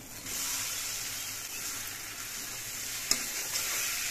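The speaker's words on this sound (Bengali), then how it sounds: "এবার এর মধ্যে আমি ভেজে রাখা আলুগুলো দিয়ে দিচ্ছি।" Pre-fried potatoes tipped into a pan of spice masala, sizzling steadily throughout with a soft stirring scrape and a brief clatter near the end, no voices.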